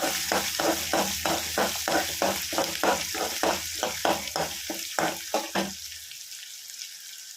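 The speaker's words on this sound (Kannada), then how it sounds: "ಈರುಳ್ಳಿನ ಸೇರಿಸ್ತಾ ಇದ್ದೀನಿ" Chopped onion sizzles and fries in a hot pan for chow chow bath, with a steady crackle and repeated stirring scrapes in a regular rhythm, close and fairly loud, until the stirring stops near the end and only a low hiss remains.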